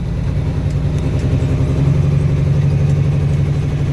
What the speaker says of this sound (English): you can hear the engine brake. Coming down the hill to go to the main road